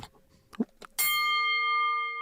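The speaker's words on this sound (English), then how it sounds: "Did we get the bell?" A single bell strikes loud and clear at the start of a live MMA news and analysis show, ringing out with a long sustained metallic tone after brief background talk.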